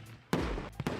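Fireworks from a store's website preview play as a sharp, loud burst followed by a sustained rumble, then two more quick close bangs.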